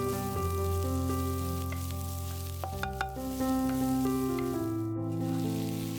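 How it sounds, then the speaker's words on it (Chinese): Chopped scallions stir-frying in leftover oil in a wok, a steady close sizzle running throughout with scraping stirs under a sustained background tone, no talk. "锅里还有油，不用刷锅，直接把葱花放进来炒出香味"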